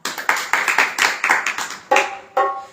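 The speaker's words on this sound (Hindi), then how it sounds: "तालियों के साथ" A church congregation claps together in rhythmic bursts, sharp repeated hand claps at a steady beat, fairly close and loud, with a few voices rising briefly near the end.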